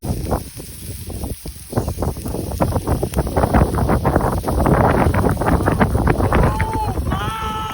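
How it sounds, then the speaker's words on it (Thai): Strong cold wind gusting over a mountaintop in the chilly late rainy season, about 18 degrees, a loud steady roar of wind buffeting the microphone with rustling throughout and swelling toward the end. "ปลายฝนต้นหนาวลมหนาวกำลังพัดหวน ก็เลยแบบว่าลมแรงเป็นพิเศษนะจ๊ะทุกคน"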